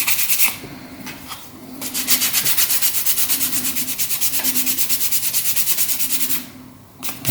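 Parts of a Dalek model are sanded by hand in close, loud, rhythmic back-and-forth strokes that run continuously for several seconds before stopping briefly.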